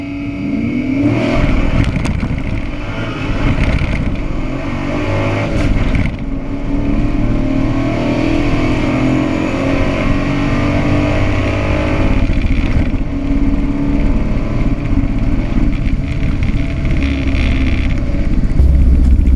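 A Toyota Troopcarrier fitted with a small-block Chevy V8 running Vortec heads makes a drag-strip pass, a loud, steady engine roar sustained throughout with slight shifts in pitch and no talking.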